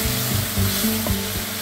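Blended tomato puree sizzles and fries steadily in a pan of sautéed onions for a jackfruit curry, with a continuous close hiss and faint rhythmic stirring knocks.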